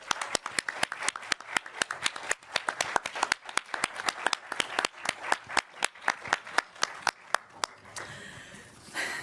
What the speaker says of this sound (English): let's give a final round of applause for all of you